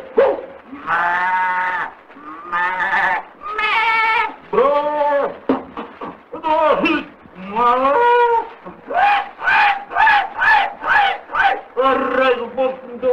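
Goat bleating among farm animals including a cow and a dog, a long run of loud wavering bleats and cries repeating close by, one after another with short gaps.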